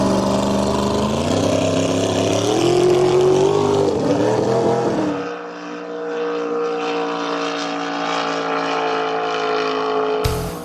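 A Crackerbox race boat engine runs in the water during a testing session, a loud sustained drone that climbs in pitch, then drops back to a steady, slightly quieter idle-like hum.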